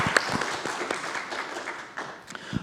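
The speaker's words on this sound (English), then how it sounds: "Please give a round of applause for Dr. Noorbaksh." An audience at an international young leaders conference applauds, a short burst of scattered, fairly close clapping from a modest crowd that thins toward the end.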